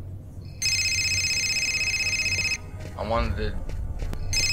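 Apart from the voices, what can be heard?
phone ringing in video game Fahrenheit Indigo Prophecy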